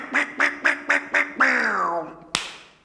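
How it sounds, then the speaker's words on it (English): A farm duck gives five short evenly spaced quacks, then a longer drawn-out quack that fades, followed by a sharp click; close and clear with no talk. "We've got one duck."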